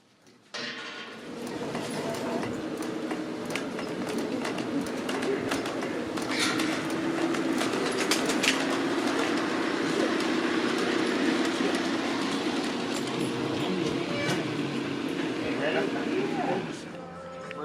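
A model garden railway train runs steadily on a display layout by a garden railway society at the San Diego Fair in Del Mar, with continuous rolling rumble and faint clicking, birds chirping in the background.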